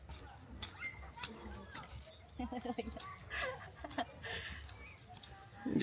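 Chickens cluck close by in short, choppy bursts, with faint background voices and a thin steady hum behind them.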